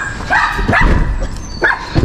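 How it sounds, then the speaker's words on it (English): A dog barks in short yips close by, three or four sharp bursts spaced across a couple of seconds, at a dumpster-diving spot by a skip with discarded fridges. "I don't know why she barks all the time around here."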